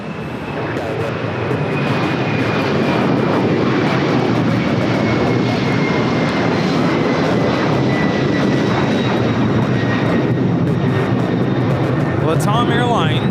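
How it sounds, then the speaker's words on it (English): Latam Airlines Boeing 767-300ER taking off from LAX bound for Lima, Peru, a loud sustained jet engine roar with a thin whine held throughout, close and continuous, with people talking over it. "Latam Airlines 2479 taking off to Lima, Peru on the 767-300 ER."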